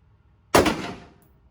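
A single loud gunshot cracks out at an outdoor gun range, a sharp broadband blast that decays over about half a second, with no other sounds around it.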